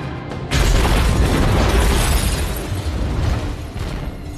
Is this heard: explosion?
yes